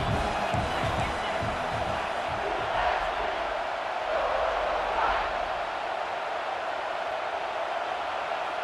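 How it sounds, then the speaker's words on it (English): A home crowd roars at a Virginia Tech versus South Carolina college football game, a sustained loud wall of cheering with a voice talking over it. "Man, this crowd really affecting the football game."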